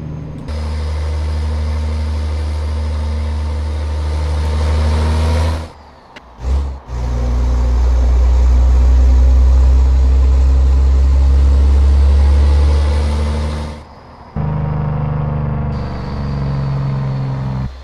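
Straight-piped C15 truck engine in American Truck Simulator, a deep, loud droning rumble held for long stretches, broken by brief drops in revs and a lower idle near the end.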